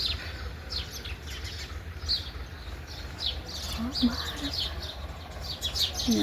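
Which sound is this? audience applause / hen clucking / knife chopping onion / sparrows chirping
sparrows chirping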